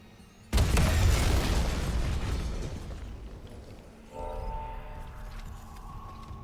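A thunderous blast in the Dead Space remake erupts suddenly and loud, its deep rumbling roar decaying over several seconds before a second, lower burst of debris and mechanical clatter follows.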